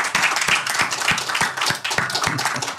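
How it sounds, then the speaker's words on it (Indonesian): Studio audience and hosts clapping to welcome a guest on an Indonesian talk show, close, sharp individual claps in a quick uneven rhythm over a busier background of applause. "tepuk tangan buat Bung Yapto Suryo Sumarno"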